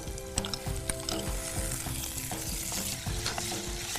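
Sliced onion and finely chopped tomato sauté in a pan for bharangichi bhaaji, a close, steady sizzle with rhythmic scraping and clacking from a stirring spatula.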